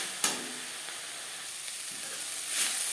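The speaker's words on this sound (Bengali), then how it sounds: "ডালের বড়ি শাকের সাথে বেশ ভালো করে মিক্স করে দেবো" Pea greens and fried lentil nuggets frying in a pan, giving a soft, steady sizzling hiss close by, with a sharp scrape of the stirring spoon near the start and another near the end, and no talking.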